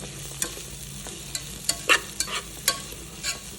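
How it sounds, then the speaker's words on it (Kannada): Chilli, onion, garlic and tomato frying in butter in a pan, a soft low sizzle under a series of sharp spatula scrapes and taps at an uneven rhythm, close by. "ಮೆಣಸಿನ್ಕಾಯಿ ಈರುಳ್ಳಿ ಗಾರ್ಲಿಕ್ ಆ್ಯಂಡ್ ಟೊಮೆಟೊ ಎಲ್ಲ ಹಾಕಿಬಿಟ್ಟು ಚೆನ್ನಾಗಿ ಫ್ರೈ ಮಾಡ್ಕೊಬೇಕು"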